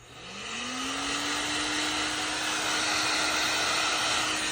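A heat gun whirs up to speed and holds a steady, loud blowing hum with a tonal whine while heating ice buildup in a refrigerator freezer. No voices are heard.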